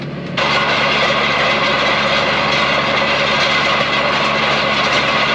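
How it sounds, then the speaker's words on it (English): A loud tractor's diesel engine starts up and then runs steadily with a constant throbbing drone, close by, with no talking. "It's fine in this tractor because it sounds awesome."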